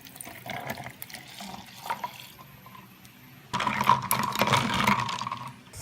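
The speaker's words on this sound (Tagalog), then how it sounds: "for cold drink add 60 ml hot water" Hot water poured from a tap into a cup to make milk tea, a soft trickle at first that swells midway into a louder, steady splashing fill close by.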